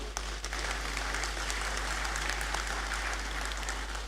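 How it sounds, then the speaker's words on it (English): In a university great hall during a graduation ceremony, the audience applauds the graduating international students with a continuous, even patter of many hands over a low electrical hum. "Applause for you."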